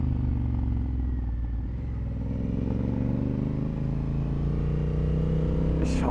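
A Honda Africa Twin motorcycle being ridden, its engine droning steadily up close with a low rumble and shifting tone as it pulls along, with wind noise from riding.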